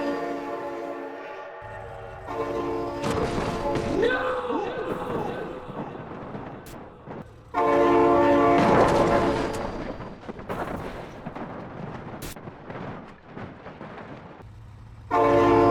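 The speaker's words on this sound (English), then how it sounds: "Oh my god, train!" A train rushes past with its horn blaring in long sustained blasts over rumbling wheels, while a voice cries out in alarm between the blasts.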